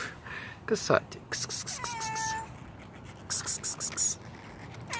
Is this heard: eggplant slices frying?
no